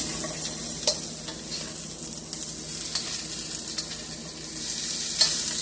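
Cabbage and beef cubes sizzle steadily in a stir fryer, with scraping stir strokes and soft clacks of the utensil against the pan. The hot frying hiss runs loud and continuous throughout, with no talking.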